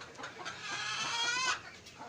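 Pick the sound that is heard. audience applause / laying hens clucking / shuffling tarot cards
laying hens clucking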